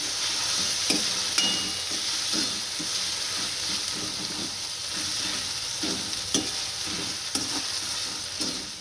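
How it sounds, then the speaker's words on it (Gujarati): Garlic cloves and chillies fry in a pan with a steady, even sizzle, broken by regular stirring scrapes and clinks throughout, with no voices. "આપણે મરચાં અને લસણ સારી રીતના સડી ગયા છે"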